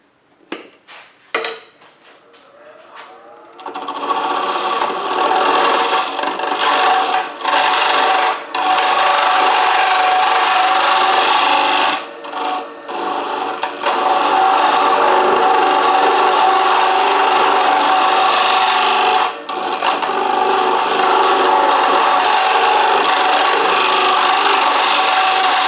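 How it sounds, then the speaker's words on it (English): A scraping tool cuts into a wooden bowl spinning on a wood lathe, hollowing it out with a continuous rough, rasping scrape. The scraping is close and loud, starting after a few short knocks and breaking off briefly now and then. "what I'm going to have to go in here to do is use a scraping tool"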